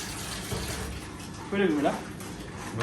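Tap water runs in a kitchen sink while freshly cut shrimp are rinsed, a soft steady stream with brief splashes, heard under people talking.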